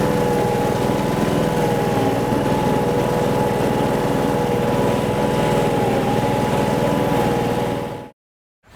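A SealMaster SP300 self-propelled sealcoat squeegee machine's engine runs loud and steady at high revs for about eight seconds, then cuts off abruptly.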